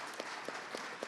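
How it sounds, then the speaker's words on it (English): A debate audience gives the gubernatorial candidates a brief, faint round of applause, a soft, steady patter of many hands with a few slightly louder claps at regular intervals. "Let's give a round of applause to these candidates so far."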